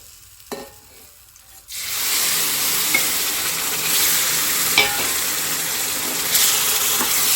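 Semolina for halwa cooks in a pan with a loud, steady sizzle and occasional stirring scrapes. The sizzle starts suddenly after a quiet moment and holds continuously.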